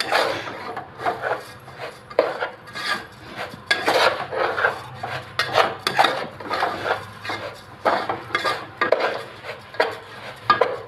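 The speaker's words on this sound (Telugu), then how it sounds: "ఇవన్నీ వేసుకొని మళ్ళీ ఒకసారి వేయించుకోవాలి." Mutton pulao being stirred and fried in a pan, with steady scraping and rasping of a utensil against the pan in repeated strokes, close and fairly loud, with no talking.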